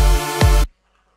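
A harsh, detuned lead synth for progressive or trance plays a thick, buzzing sustained note with a brief pitch dip in the middle, loud and alone, then cuts off abruptly into silence.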